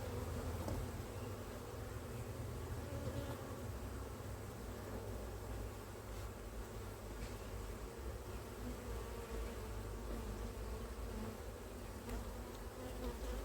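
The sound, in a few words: honey bees buzzing around an opened flow hive during inspection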